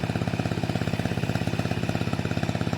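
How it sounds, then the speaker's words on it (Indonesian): A pump engine for drawing water chugs away at a fishing pond, a fast, regular mechanical beat holding steady and loud from start to finish. "Mesin penyedotnya di sebelah sana, mesin penyedot."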